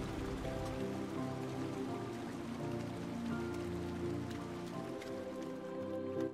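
Water rising steadily in the Spirit of the North video game, a continuous close rushing and pattering like heavy rain that lasts throughout, with soft tonal game music underneath.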